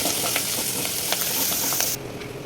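Turmeric, ginger and chili fry in hot oil in a pan while a spoon stirs them, a close steady sizzle with scraping strokes that softens slightly near the end, no voices.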